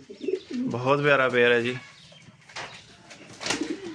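A pair of yellow saddle frill fancy pigeons at a pigeon farm, one giving a clear, rolling coo close by, followed by softer bird sounds while someone talks nearby.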